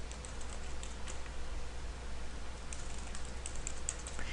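Soft, steady typing on a computer keyboard, quiet and continuous, with a few brighter key clicks over a low hum and no talking.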